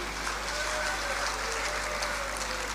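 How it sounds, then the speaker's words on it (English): An audience at a Labour Party national elective convention applauds: a steady, fairly faint wash of clapping that holds evenly for a few seconds. "can we clap with a loud ovation?"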